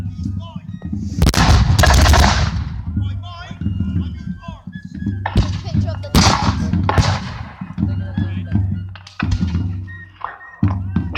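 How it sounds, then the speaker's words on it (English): Soldiers' musket volley in a battle against British Redcoats, heavy booming blasts with a long rumbling spread, one big burst near the start and several more following, a narrator talking over the gunfire throughout. "Again, another volley coming in."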